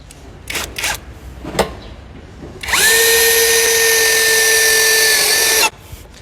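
A cordless drill drives a screw into steel. A few faint taps come first, then one loud, steady motor whine runs for about three seconds and cuts off sharply.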